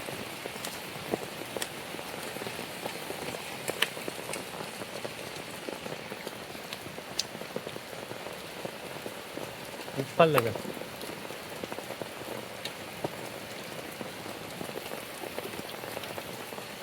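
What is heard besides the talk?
heavy monsoon rain falling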